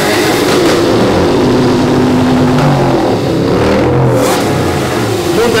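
A motor tricycle's engine revs loudly and continuously, its roar rising and falling close by, with faint voices in the background, at a vehicle parade during a harvest festival in Kiskunhalas.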